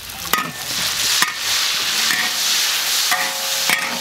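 Chili peppers and pork belly are stir-fried in a wok, a loud close sizzle with sharp scraping clanks of the spatula striking the pan several times.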